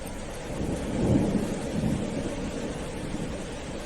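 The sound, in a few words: torrential rain with thunder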